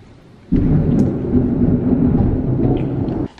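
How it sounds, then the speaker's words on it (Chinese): A deep rumble of thunder starts abruptly, rolls loud and steady for nearly three seconds, then cuts off, with no voices over it. "杜比害怕打雷，所以他就钻在我们脚底下，躺在这儿哪儿也不去。"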